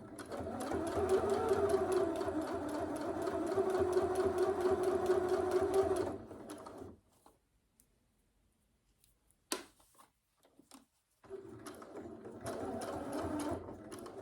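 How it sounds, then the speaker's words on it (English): A sewing machine edge stitches along the bottom of a dress bodice pocket, running steadily for several seconds, going quiet, then starting up again for another steady run. "continue to edge stitch along the bottom of our pocket"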